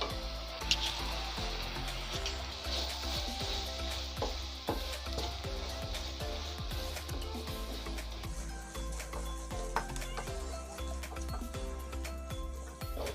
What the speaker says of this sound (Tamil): இது ஒரு 2 மினிட்ஸ் போல் அப்படியே ஃப்ரை பண்ணிக்கிட்டு இருங்க